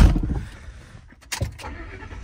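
A long car, driven on a Florida road trip, starts up with a brief cranking rumble and then a rising engine burst that settles into idle, close and moderately loud, with faint handling noise around it.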